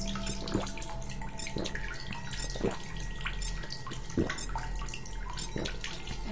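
Cave water in The Solus Project, a steady trickling flow with occasional distinct drips, moderately near and continuous under a low rumbling ambience.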